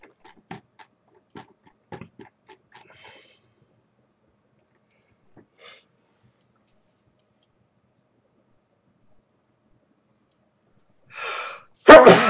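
A single sharp, loud sneeze bursts out near the end, after soft scattered ticks, clicks and a faint breath, recorded close up during a tabletop session of a 1975 SPI Napoleonic board game.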